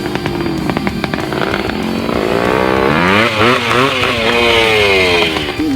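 A Bultaco Pursang two-stroke off-road motorcycle revs hard and close, its raspy, buzzing engine rising and falling in quick throttle blips, loud and alone with no talk.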